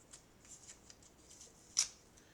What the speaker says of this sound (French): On va prendre un petit bout de scotch